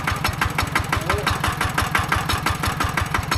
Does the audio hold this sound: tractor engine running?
yes